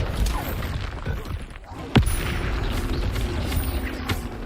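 A spell explosion in Hogwarts Legacy: one sharp, short boom cuts through a dense bed of combat noise and rumble.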